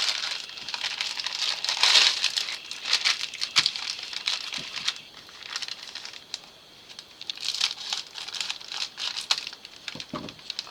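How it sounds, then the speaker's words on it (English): Plastic packaging from a Temu haul of crafting items and silicone molds crinkles and crackles continuously as it is unwrapped, close to the microphone, with bursts of louder rustling and small taps. "I'm sorry about the plastic rustling noises, but that's what it is on a Temu haul."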